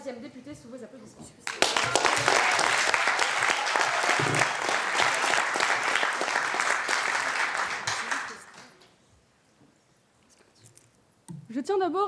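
An audience at a high school eloquence and debate competition bursts into loud, sustained applause for the next debater. The clapping fades out after several seconds, and voices are heard briefly before and after.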